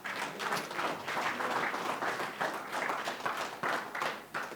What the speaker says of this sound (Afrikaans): Gee God 'n lekker hande klap.